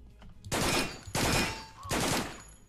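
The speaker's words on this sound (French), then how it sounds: "Les balles qui ricochent quand t'as que 8 points de vie, c'est mortel." Gunfire with ricocheting bullets in a first-person video game, three loud bursts of shots spaced about half a second apart, each trailing off before the next, with no talking.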